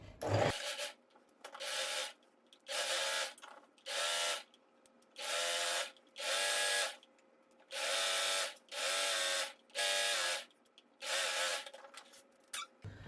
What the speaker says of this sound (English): we're gonna stitch all the way down